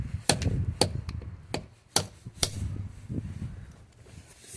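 Sharp metallic hammer blows strike a cut locking wheel nut sleeve on a car wheel, about six irregular hits, close and loud, with ringing rattles between strikes.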